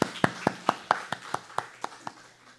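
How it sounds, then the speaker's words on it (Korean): During a Sunday sermon at a Korean fasting prayer house, a congregation claps in unison: about ten sharp, evenly spaced claps at a steady beat that gradually soften, with no talking. "박수."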